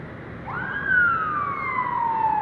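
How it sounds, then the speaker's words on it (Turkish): An ambulance siren rises into a sustained wailing tone at a Turkish emergency scene near a school, loud and clear over a low background rumble, holding steady and slowly falling in pitch. "Ama ambulans ekipleri gelmeye devam ediyor."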